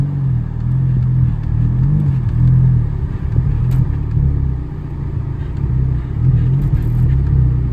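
A cheap auction car's engine hums as a low, steady rumble from inside the cabin while the clutch engages, with slight swells in pitch and no talking.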